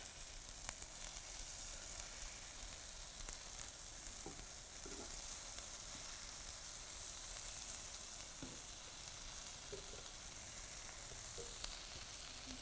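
Crab cakes with an almond flour crust sizzle steadily in a frying pan, a dense, even hiss with scattered small pops and crackles throughout, no talking.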